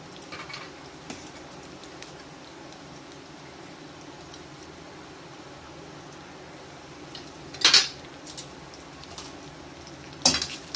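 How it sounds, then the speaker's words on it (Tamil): Lemon rice is stirred in a pan over very low heat, with a faint steady sizzle under two sharp, brief scrapes of a spoon against the pan. "இப்போ எல்லாம் நல்லா கிளறி விடுவோம்."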